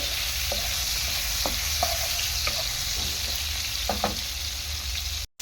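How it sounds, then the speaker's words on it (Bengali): Aloo paneer curry with tomatoes stirred in a pan, a continuous close sizzle punctuated by several distinct spoon scrapes and knocks at irregular intervals, ending abruptly. "নাড়াচাড়া করে নেব"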